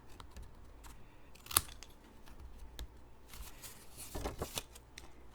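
Scissors snip through a paper card sentiment, a few quiet crisp cuts and rustles up close at low volume, with no voices.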